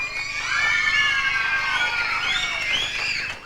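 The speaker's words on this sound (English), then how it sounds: "Come on, do the screaming you did before." A studio audience of children screams and shrieks together at a television animal show, a loud sustained burst of high, overlapping voices lasting several seconds before trailing off.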